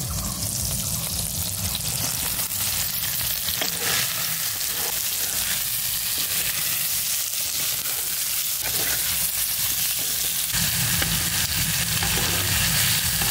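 Potato pieces frying in oil in a pan while a chicken curry is cooked, giving a steady loud sizzle with occasional stirring scrapes, close up and continuous with no talking.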